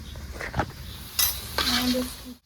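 Chopped onions and whole cumin seeds fry in a pan with a steady sizzle, broken by a few sharp stirring and utensil scrapes against the metal, close up with no voices.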